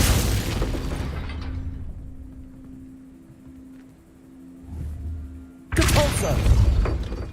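A Glacius freezing spell in Hogwarts Legacy lands with a sharp icy burst and crackle, then a quieter humming stretch before a second loud crunching impact near the end; a voice speaks briefly.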